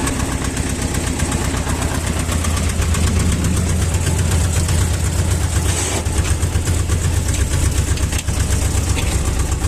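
A car engine runs steadily while driving toward a forest, a continuous low rumble and hum at close range with no pauses and no talking.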